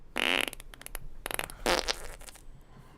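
A soundboard button fires a fart sound effect, a short loud raspy burst followed by a few sputtering blips and a second brassy blurt, fairly close and clear.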